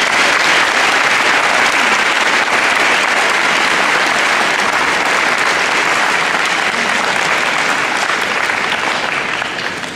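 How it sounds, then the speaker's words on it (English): Audience at a high school Veterans Day assembly applauding, a loud, dense, sustained round of clapping from a large crowd that holds steady for the whole stretch and starts to fade only at the very end. "Can you give him a nice round of applause"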